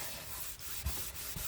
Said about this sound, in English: rubbing the excess off.